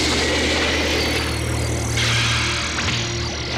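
A sustained, crackling Special Beam Cannon energy beam in Dragon Ball Xenoverse roars steadily with a buzzing, whining hum, loud and continuous throughout without a break.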